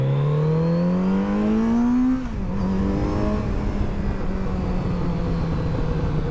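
A Moto Guzzi V100 Mandello S motorcycle engine revs up in a rising whine, then drops back to a steady idle hum, loud and close with no talking.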